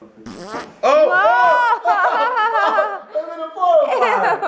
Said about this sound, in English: He can fart on command.